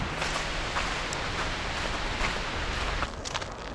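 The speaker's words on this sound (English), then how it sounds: "it's actually really windy right now as well." Strong wind blows outside after a night of heavy rain, a steady, dense roar of rushing air with a low rumble, continuous and fairly faint, with no voices.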